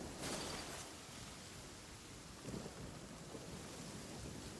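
Steady rain with rumbling thunder in the Genshin Impact video game, a constant wash of falling water with a low swell near the start and another around the middle, no voices over it.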